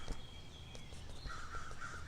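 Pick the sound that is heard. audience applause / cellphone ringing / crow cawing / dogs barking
crow cawing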